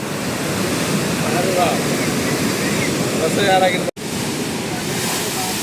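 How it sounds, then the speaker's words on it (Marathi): Strong sea waves crash over a protective wall in a loud, continuous roaring wash, close by, with a sudden momentary cutout near the end and faint voices in the background. "या बाजूला जोरात लाटा यायला लागल्यात"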